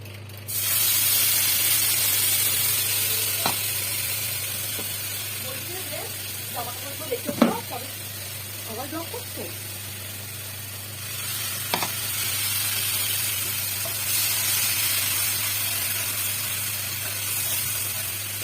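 Spice paste of cumin powder, tomato paste and chilli paste hitting a pan of already-fried fish, giving a steady broad sizzle with a burst of spattering crackles midway and a few stirring knocks.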